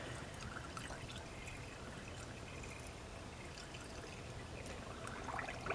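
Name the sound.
pouring water into a 1985 Chevy Cavalier's cooling system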